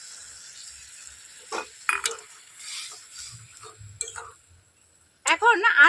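Cashew paste goes into a pan of frying spice masala for an onion curry, giving a few short scrapes and clinks of a spoon against the pan with a soft sizzle, and a louder clatter of stirring at the end.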